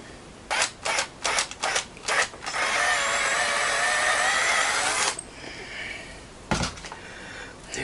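A hand drill bores a pilot hole into a replacement neck for a Les Paul copy guitar, with a few short clicks leading into a steady whirring grind of several seconds, then a pause and a brief burst, close-up.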